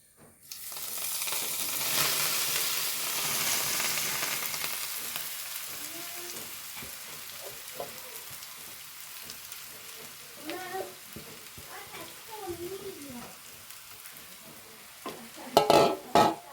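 Taro leaves hit a hot pan with fried urad dal and crackle into a loud, broad sizzle, which slowly settles as a spatula stirs and scrapes. A few sharp clatters come near the end, and no one talks.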